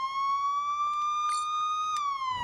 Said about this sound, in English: I shouldn't be driving along with my lights and siren on